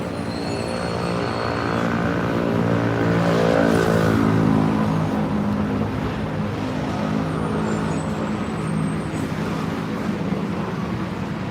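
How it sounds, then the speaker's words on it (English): Busy city traffic on Manhattan's Upper East Side, with a steady, loud wash of engine rumble and road noise that swells briefly and then holds constant throughout. "Ooh, look at this traffic picking up."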